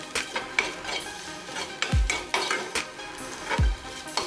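A spoon stirring and sautéing soya cutlet mixture with chili paste in a pan, steady scraping with a light sizzle and two heavier knocks against the pan.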